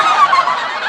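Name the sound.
voice imitating goose honking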